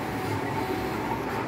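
A Canon TA20 printer and Bannercut cutter run while printing stickers, giving a steady, dense mechanical whir with a constant hum, close and continuous with no speech.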